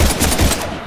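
A brief, loud, close burst of rapid gunfire from the Mass Effect 3 game, in a few quick cracks with no voices.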